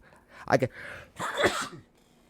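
A quick sharp breath, then a loud, explosive sneeze close by, with breathy noise trailing off afterward.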